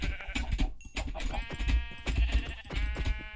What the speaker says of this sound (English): let's just kill all these sheep